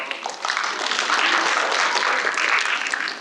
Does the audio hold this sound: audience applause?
yes